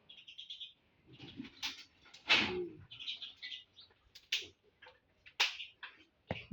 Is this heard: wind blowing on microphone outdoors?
no